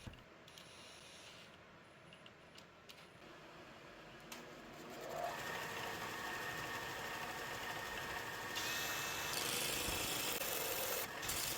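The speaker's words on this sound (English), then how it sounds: "I can chuck up the dowel in my drill and then turn the blank on my belt sander." A wooden blank spun by a drill against a belt sander, giving a continuous grinding, rasping rub over a motor hum that grows louder and rougher partway through, with no talking.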